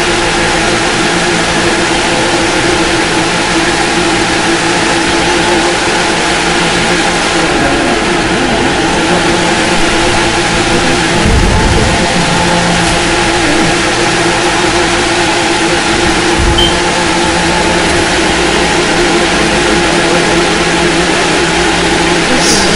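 JDM car engines in The Crew 2 drone and rev continuously at a meet, a loud, dense layered roar of several motors with swelling and dipping pitches and no clear talking.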